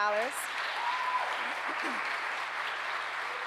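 Audience applause at a Martin Luther King awards ceremony for high school scholarship recipients, a steady, even wash of clapping from a crowd, with a voice briefly heard at the start.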